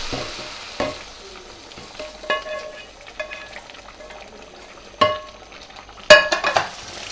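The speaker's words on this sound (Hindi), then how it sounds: "अब मैं ये इसमें ये सारा भगार डाल दूँगी" Hot tempering (bhagar) is poured into cooked chana and mash dal, giving a crackling sizzle with sharp bursts and spattering pops over a soft hiss, close up, with no talk.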